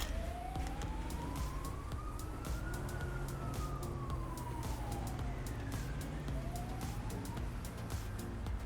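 In GTA 5, an ambulance siren wails in slow rising and falling sweeps over a steady rumble of engine and road noise, with faint clicking throughout.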